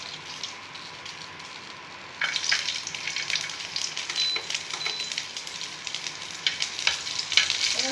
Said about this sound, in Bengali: রসুনগুলো ভাজা ভাজা হয়ে গেলে এবার দিয়ে দেবো এতে কেটে রাখা পেঁয়াজ।